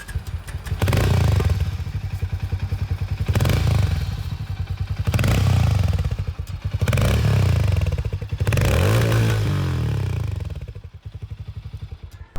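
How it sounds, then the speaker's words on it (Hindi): A Harley Davidson X440 motorcycle engine running loud and close, with deep throbbing exhaust pulses swelling and easing across several revs before dropping to a quieter idle. "आइए अब मैं आप लोगों को यहाँ पर हार्ले डेविडसन की भी आवाज सुना दूं।"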